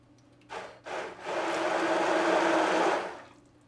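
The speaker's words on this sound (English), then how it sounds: "Use an immersion blender like this." An immersion blender purees vegetables in two quick bursts, then runs in one steady whirring stretch of about two seconds before winding down, heard close up.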